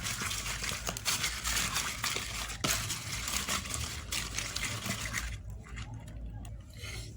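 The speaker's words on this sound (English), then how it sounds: "Make sure you wash it to remove all the dust and the dirt on the leaves." Fresh guava leaves being rinsed under running water, a steady splashing, trickling stream with leafy rustles and small knocks, close by, thinning out toward the end.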